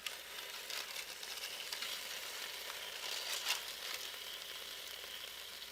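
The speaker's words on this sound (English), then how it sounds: "You can hear that sizzling." Steady crackling sizzle of fried chicken in a Ninja Foodi air fryer, continuous and fairly close, with a few brighter pops partway through; no voices.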